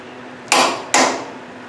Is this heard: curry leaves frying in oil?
no